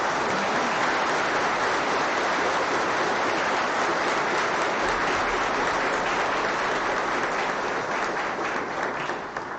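A church congregation at a Fourth Sunday of Easter mass applauds the catechists, a dense, sustained round of clapping from many hands that fills the room evenly for nearly ten seconds.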